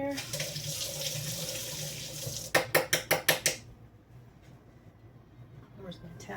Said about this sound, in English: So let me rinse this off. Put my water here.